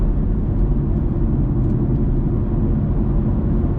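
A tuned 2018 Chevrolet Camaro Gen V engine downshifts, its deep, loud exhaust rumble steady and close throughout with slight fluctuations and no voices.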